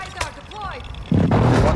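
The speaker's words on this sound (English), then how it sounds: "So we got airstrikes here." Airstrike explosions in a multiplayer shooter video game. A voice speaks briefly, then a loud, heavy blast hits and rolls into a sustained booming rumble.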